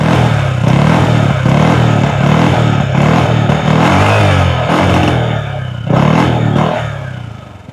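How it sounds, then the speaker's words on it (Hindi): A VLF Mobster 135 scooter revving in place, its exhaust rising and falling through repeated throttle blips with a rough mid-pitched engine note, loud and close, with no talking. "अब मुझे पता है आप बेताब हैं इसके एग्जॉस्ट नोट को सुनने के लिए, तो आइए सुनते हैं कैसा है इसका एग्जॉस्ट नोट।"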